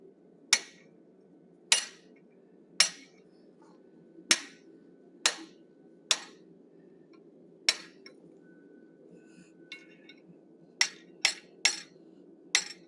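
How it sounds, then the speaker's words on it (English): A half-inch fuller is struck on hot steel while forging an animal head, giving sharp ringing hammer blows, about a dozen spaced a second or so apart, with a quick cluster of strikes near the end. "I'm going to use a 1/2 inch fuller."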